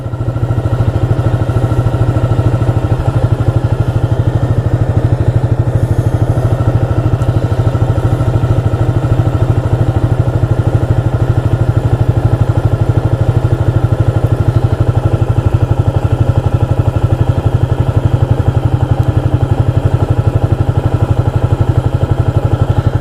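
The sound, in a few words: 1985 Yamaha Virago motorcycle engine idling revved high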